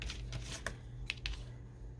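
Fabric scraps trimmed by hand, cut for junk journal cards and tags, giving a few short crisp snips and light rustles close up over a steady low hum, with no talking.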